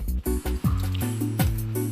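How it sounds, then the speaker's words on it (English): Water is poured into a hot cooking pan while making fish curry at home, giving wet gurgling, splashing and squishing sounds up close, in quick irregular bursts. "Add more water."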